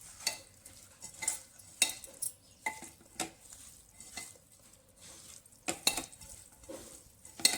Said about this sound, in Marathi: आता हे हाताने मिक्स करणार आहोत आपण